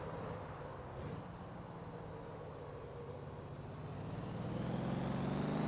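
In the Motor Town driving game, a car doing burnouts gives a steady engine drone that swells louder and rises in pitch toward the end, heard alone without talk.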